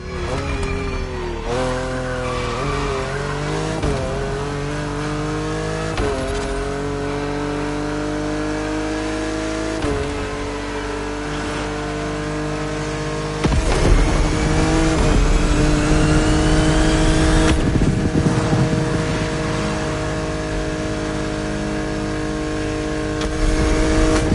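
A BMW Z4 M40i convertible driven in The Crew Motorfest, its engine revving loud and close through repeated gear shifts, with bursts of tire squeal and a harder push near the middle.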